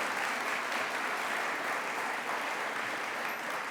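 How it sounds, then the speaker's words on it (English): An audience applauds at a First Lady event in Miami, a steady, dense wash of clapping that holds evenly from start to finish with no voices rising above it. "So let's give Amy a round of applause."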